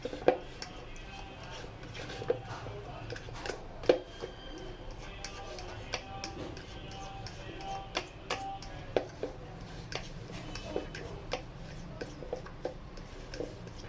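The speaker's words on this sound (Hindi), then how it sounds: "अच्छी तरह आप अंडों को मैश कर लें।" Boiled eggs being mashed in a bowl for a creamy chicken sandwich, scattered scraping and tapping clinks of a utensil against the bowl in an irregular rhythm, close and fairly quiet.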